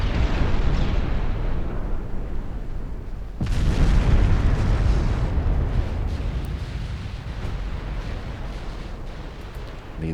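Naval guns on warships fire in an Ultimate Admiral Dreadnoughts battle: a dense, continuous rumble of booming salvos that swells sharply about a third of the way through and stays heavy to the end.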